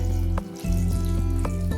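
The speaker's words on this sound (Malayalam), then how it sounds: "മാങ്ങ വേവാനുള്ള വെള്ളം ഒഴിച്ചു കൊടുക്കുന്നുണ്ട്" Water is poured into a pot of mangoes on the stove, a steady close splashing rush with a brief dip partway through.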